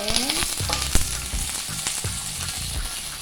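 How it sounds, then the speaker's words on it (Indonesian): Salted squid fries in a pan with shallots and garlic, giving a loud, steady sizzle with crackling pops and spatula stirring clatter up close. "setelah bawang merah, bawang putihnya harum, kita masukkan cuminya. Kita goreng"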